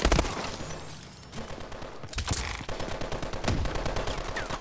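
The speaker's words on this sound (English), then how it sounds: "Sir, I'm gonna ask you stop shooting over there" Rapid automatic gunfire in Call of Duty Advanced Warfare multiplayer, loud close bursts of shots with a brief lull in the middle before the firing resumes in quick, steady volleys.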